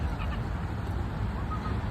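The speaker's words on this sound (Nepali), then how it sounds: "यो पालेको हाँस हो" A domestic duck calls amid outdoor background noise in a valley setting, giving short honking quacks close by over a constant low rumble.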